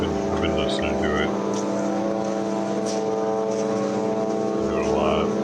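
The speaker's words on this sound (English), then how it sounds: "been enjoying the drone. I've been listening to it." A drone flying overhead above Gaza, a constant loud droning hum with layered steady tones that persists throughout, with voices and other sounds in the background.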